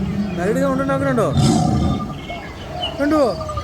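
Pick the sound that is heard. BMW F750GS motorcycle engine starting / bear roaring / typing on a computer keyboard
bear roaring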